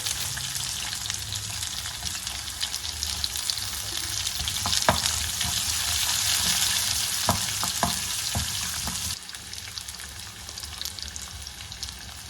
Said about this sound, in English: Just stir fry the onion.